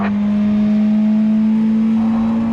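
Race car engine at the Barcelona circuit holding a loud, steady high-revving drone, heard from onboard as it short-shifts up into third gear.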